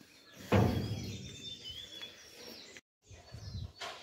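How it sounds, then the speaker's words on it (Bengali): Several birds call and chirp at a bird park in Pelling, high thin calls layered over a background of faint murmur, with a brief dropout partway through. "আমি তো শুনতে পাচ্ছি প্রচুর পাখির আওয়াজ"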